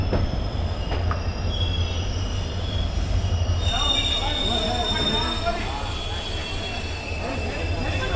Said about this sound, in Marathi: जोधपूरवरून फक्त दोन किलोमीटरचा डिस्टन्स कवर करून आपली ट्रेन आता पोहोचली रायकाबाग पॅलेस जंक्शनला